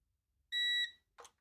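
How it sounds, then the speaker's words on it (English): An E88 drone's remote controller gives one clear electronic beep lasting about a third of a second during calibration, followed by a couple of brief faint handling clicks. "pull them and hold for like 2 seconds. It will start to beep."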